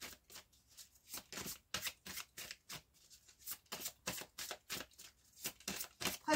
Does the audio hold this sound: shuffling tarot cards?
yes